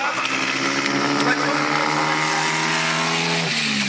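A 1924 vintage car's engine restarts and pulls away, its steady mechanical note climbing in pitch as it accelerates, then dropping suddenly near the end, with faint voices in the background.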